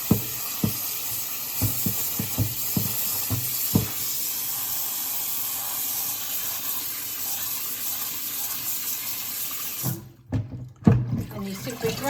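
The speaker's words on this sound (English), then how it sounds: "I'm going to wash all the silver beet and spinach leaves in my salad spinner. Fill it up, give it a good push around." Tap water running into a salad spinner filled with silver beet and spinach leaves, a steady splashing flow with a few knocks and thumps, ending in louder sloshing and handling sounds.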